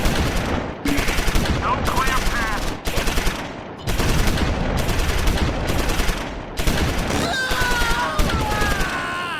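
Medium machine gun flanking fire in the Close Combat 4 Battle of the Bulge game at Losheim: loud, close bursts of rapid automatic fire broken by short pauses, with other gunfire mixed in.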